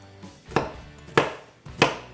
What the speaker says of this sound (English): So you're just gonna basically give it a real quick, rough chop